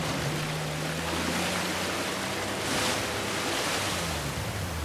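Waterfall rushing in Uncharted 4: A Thief's End, a loud, steady broadband roar filling the whole five seconds without a break, with no speech over it.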